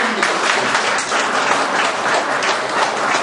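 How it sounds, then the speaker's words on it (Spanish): An audience at a government accounts event gives a strong round of applause for the licenciada: loud, continuous, dense clapping throughout with no talk over it. "es de darle un fuerte aplauso por preferir"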